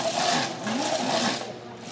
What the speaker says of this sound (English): I've put buffing wheels on it so that I can buff when I don't have electricity